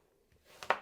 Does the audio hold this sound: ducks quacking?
no